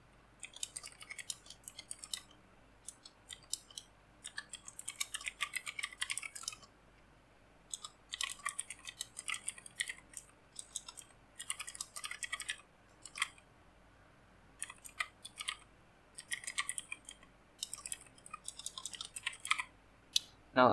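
Someone types a prompt on a computer keyboard, with quick bursts of soft, close key clicks broken by short pauses, steady and quiet throughout and no voices.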